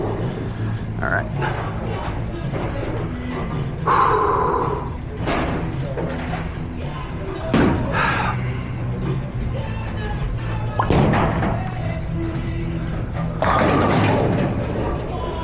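A purple Hammer bowling ball rolls down a lane and crashes into the pins, the rumble and impact thuds repeating through a busy alley with voices murmuring in the background.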